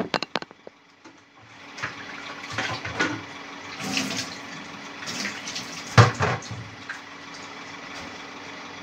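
Water runs from a tap for handwashing, gurgling and splashing in uneven bursts with clatters and knocks, one sharp bang near the middle, under a low steady hum, no voices.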